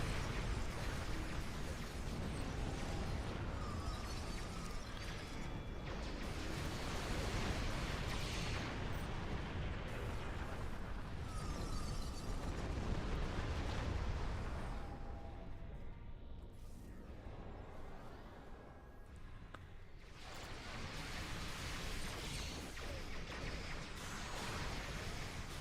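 Torpedo volleys and a gravity well detonate in the space combat game Star Trek Online, a dense, continuous wash of loud booms, bursts and rumbling impacts that thins briefly midway before swelling again.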